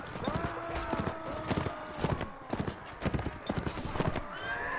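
In Mount & Blade: Warband during a castle siege, horse hooves clip-clop in quick rhythmic clusters while horses neigh and whinny repeatedly, loud and close throughout.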